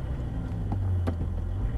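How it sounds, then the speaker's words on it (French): A Porsche GT3 on a race track drones with a steady, loud low engine note, a few brief higher swells rising over it, with no voices. "On accélère."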